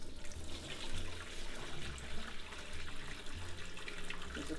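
Water drains off cooked rice in a steady splashing pour that runs continuously at moderate volume, with no voices.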